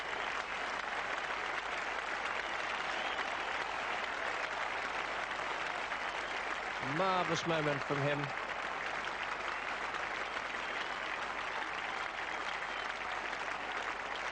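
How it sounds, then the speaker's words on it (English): Crowd and teammates applauding at a 1987 England versus Pakistan test cricket match, a broad steady wash of clapping throughout, with a commentator speaking briefly over it. "Applause from Javed, from his teammates"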